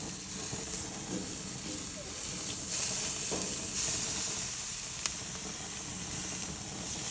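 Filet mignon searing and charring in a hot pan gives off a loud, constant sizzle and hiss, broken by a few soft scrapes and a single sharp click.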